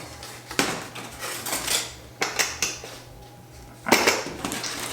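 Several light plastic and clattering knocks, close and intermittent, as a container lid is handled and pressed back into place while planting calla lily seeds.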